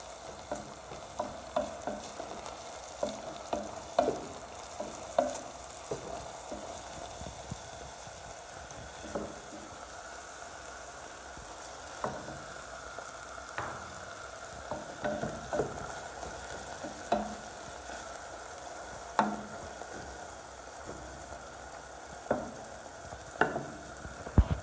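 Green onion fries in a pan with a constant soft sizzle, punctuated by repeated scraping and clinking of a utensil stirring against the pan, close and moderately loud.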